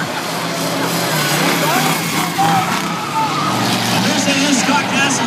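A race car spins out on a track during a waterless boat race night event, with loud engine roar and tire noise under an announcer's excited commentary.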